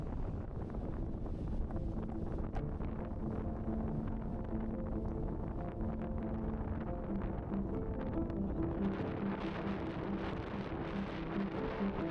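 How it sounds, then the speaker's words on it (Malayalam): Strong wind roars against the microphone during a motorbike ride near Mekkara on the way to Achankovil, a dense continuous buffeting over a low engine drone that shifts tone near the end, with no voices. "വീശുന്ന കാറ്റ് നല്ല ശക്തിയായിട്ടാണ് കാറ്റ് വീശിക്കൊണ്ടിരിക്കുന്നത്."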